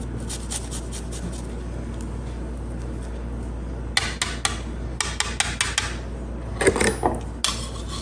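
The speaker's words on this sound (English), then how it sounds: "I'm gonna use the microplane to grate it." Garlic being grated on a metal microplane in a home kitchen, a series of short rasping scrapes in bursts with light clinks of the tool, close up and without talk.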